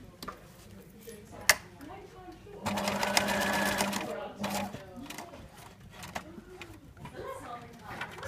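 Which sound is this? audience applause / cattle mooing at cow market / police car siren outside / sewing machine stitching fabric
sewing machine stitching fabric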